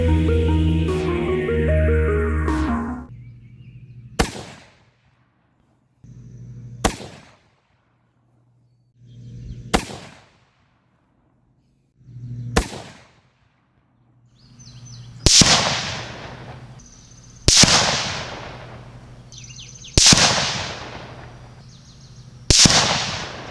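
A CZ 527 rifle fitted with a Vortex Crossfire II scope fires nine sharp, loud shots outdoors, spaced a few seconds apart, each a hard crack with a short decaying tail, the later ones sounding fuller and louder.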